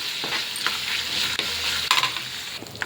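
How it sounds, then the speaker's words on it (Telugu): Dried red chillies and curry leaves frying as a tempering for a urad dal and tomato chutney, a loud, close, crackling sizzle throughout with a few sharper pops and spatula scrapes. "ఇప్పుడు ఈ పోపులన్నీ బాగా వేపుకుందాం మనం"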